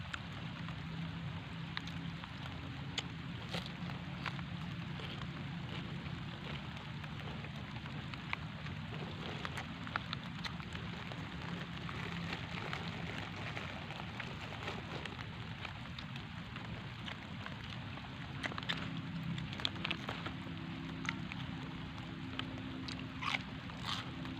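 Steady rain falls outdoors as a dense, even hiss for the whole stretch, with a low background rumble and scattered brighter drops. There is no talking.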